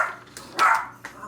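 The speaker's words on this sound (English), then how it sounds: "cue the dog. Cue the dog." A dog barks indoors in a home, a few sharp, close barks spaced irregularly, loudest near the middle, with a lone yelp toward the end.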